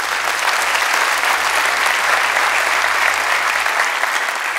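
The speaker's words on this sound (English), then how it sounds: "Applaud if you agree with that." Sustained applause from a seated audience at a talk about laughter in relationships, an even wall of clapping that stays level and unbroken from start to finish.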